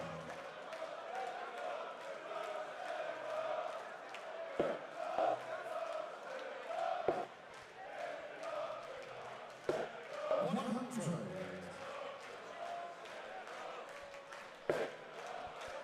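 Crowd at the Bonte Wever darts venue during the Dutch Open finals roars and cheers in a steady, dense wash, with a commentator talking over it and a few sharper bursts.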